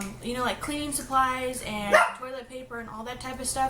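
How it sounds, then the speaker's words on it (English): Dogs bark repeatedly indoors, reacting to someone outside the window, with sharp, close yaps and woofs breaking in while a person keeps talking over them. "And so sorry about my dogs, they hear someone out the window or whatever."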